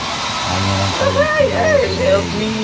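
A hair dryer blows with a steady whirring hiss while drying a dog, and a voice speaks over it nearby.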